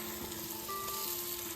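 Chillies and onions dropped into a hot pan hiss in a soft, continuous sizzle, fairly quiet and close, with a faint steady hum underneath and no voices.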